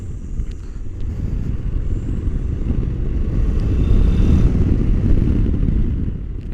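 A Honda NC750X motorcycle riding on Pirelli MT60 RS tyres along a road, giving a loud, continuous low engine and wind rumble from close on the bike, rising slightly midway and staying steady throughout.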